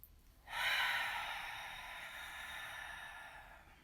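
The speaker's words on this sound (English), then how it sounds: "So we're going to do 2 more ujjayi breaths." A single long ujjayi breath during breathing meditation, a close, soft, hissing oceanic exhale that swells quickly and then slowly tapers over several seconds in an otherwise quiet room.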